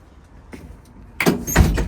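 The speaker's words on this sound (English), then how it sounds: "This right here is my door, and it opens and closes" A truck cab door is opened and then shut with a solid close, a quiet latch click first, then a loud thump and rattle near the end, alone without talk.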